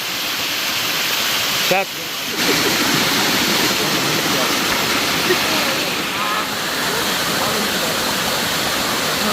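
Water rushing down a falls-like stretch along a forest road near Kodaikanal, a dense continuous roar filling the whole clip, with a brief dip partway and someone briefly speaking over it.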